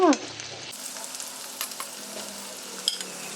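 Onions and tomato frying in a kadhai for paneer biryani, a continuous close sizzle with light scraping of a spoon, opening with a short louder burst.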